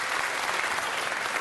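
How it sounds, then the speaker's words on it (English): A round of applause fills a city council chamber during a meeting, a thick, even wash of many hands clapping at moderate distance, steady throughout with no talk over it. "Let's give another round of applause."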